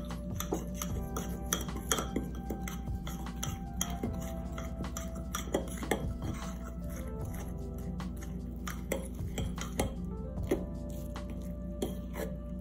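A spoon clinks and taps against a mug while mixing keto brownie batter, with quick irregular metallic knocks running continuously and close over a low steady hum.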